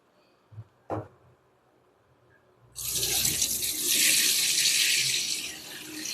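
Water pours off washed ration rice as it is drained. A couple of soft knocks come first, then a sudden steady splashing rush starts partway through and runs loud to the end.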